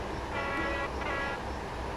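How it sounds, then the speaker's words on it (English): A freight train with hopper wagons loaded with logs rolls past in the SimRail simulator, a dense steady rumble with faint tonal ringing and no talk. "Oh, another train."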